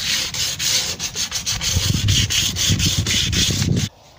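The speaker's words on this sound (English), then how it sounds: "So I'm just going to give everything a little bit of a rub down and I'll be ready for a final paint up." Rhythmic back-and-forth sanding on painted narrowboat bow doors: loud, close rasping strokes repeating steadily for about four seconds, then stopping abruptly, with no voices.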